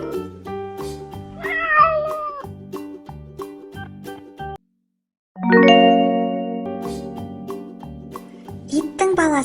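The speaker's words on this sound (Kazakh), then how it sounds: "Мысық." Cartoon cat meowing among other farm animal sounds in a children's animation, with tonal melodic voice-like cries, a short silent gap, then a longer sustained meow over light background music.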